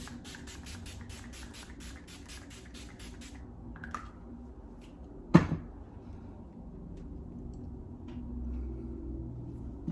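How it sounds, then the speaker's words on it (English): Rose water setting spray misted onto a face during a makeup routine: a single short, sharp hiss of spray stands out against a quiet room, preceded by a run of faint rhythmic ticks. "I'm gonna take my setting spray, which I like to take this rose water"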